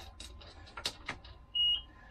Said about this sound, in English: We got beeps.